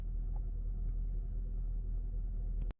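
An Acura car engine idles steadily to warm the transmission fluid, producing a continuous low rumble at an even level that cuts off abruptly at the end.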